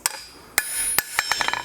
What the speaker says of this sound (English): here I am back again with the more rounded face hammer and finishing the texture on the other side of the other half of the piece